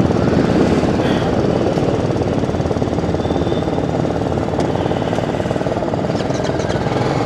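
A BMW G310GS motorcycle engine drones steadily and loudly while riding, with a dense rumbling pulse and no breaks throughout.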